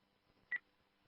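Telephone dialing tone heard over a radio during a phone call, a single short DTMF beep, faint and alone.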